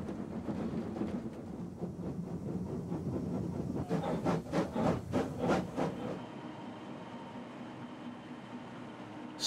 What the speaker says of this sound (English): PB 15732 accompanied A10 Number 6 on a parallel run along the suburban quad to Corinda